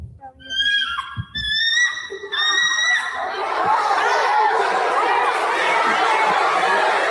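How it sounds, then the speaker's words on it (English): A bald eagle gives a series of high, thin, chattering whistled calls in quick bursts, followed by a loud wash of crowd-like chatter and noise that fills the rest. "This is the sound of an actual bald eagle."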